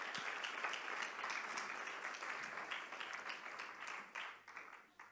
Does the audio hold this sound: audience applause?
yes